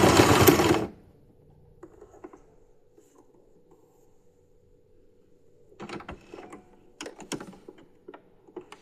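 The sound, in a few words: sewing machine stitching fabric for a glove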